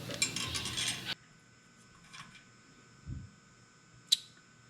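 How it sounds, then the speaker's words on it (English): A metal brake rotor for a Beta 300 dirt bike's front brake is unpacked. About a second of crinkly packaging rustle gives way to quiet, with a few faint metallic taps and clinks. "Now we'll go ahead and get the brake rotor unpackaged and check for fit."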